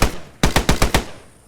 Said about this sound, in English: See this machine gun firing?